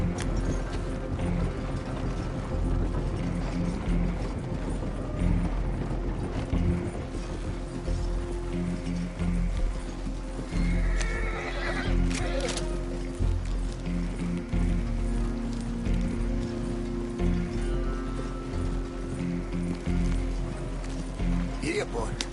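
Horse hooves clip-clop in the video game Red Dead Redemption 2, a rhythmic trotting patter with creaking tack and mechanical clatter, heard under a man's speech throughout.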